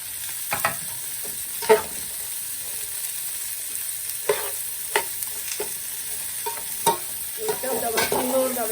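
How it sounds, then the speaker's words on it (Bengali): Spice paste fries in oil with a steady, close sizzle while a spoon scrapes and knocks against the pan at irregular moments. "ভাজা ভাজা করে নেই"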